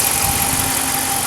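Dodge Ram 2500 pickup with a 5.7-liter Hemi V8 idling under the open hood, a smooth, quiet, steady hum heard up close with no variation in pace.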